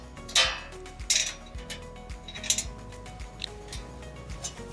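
Fasteners on a 6U rack cabinet frame are tightened with a tool, giving a series of sharp metallic clicks and ratcheting taps, some louder, spaced irregularly, close and fairly quiet, with no talk.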